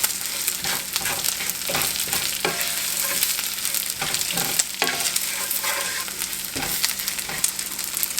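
Flour and chipped beef sizzle steadily in a frying pan, with stirring scrapes recurring through the continuous, close frying hiss, no voices.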